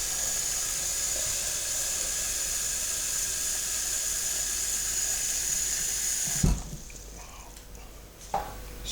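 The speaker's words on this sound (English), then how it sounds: "Litre of cold water directly from the tap." Cold water pours straight from a kitchen tap into a container as a steady, close hiss of running water that stops abruptly near the end, followed by a couple of small knocks and clunks.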